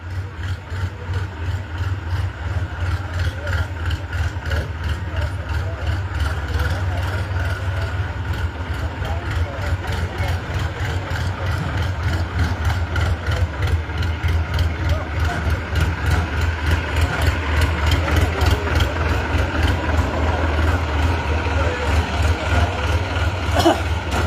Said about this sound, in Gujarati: ટ્રેક્ટર ને લઈ જવા દે